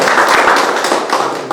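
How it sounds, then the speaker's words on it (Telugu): A dense burst of clapping from an audience at a business group meeting, loud and close, filling the full moment without pause as many hands applaud together. "ఈ నలుగురికి ఒక్కసారి గ్రాండ్ క్లాప్స్."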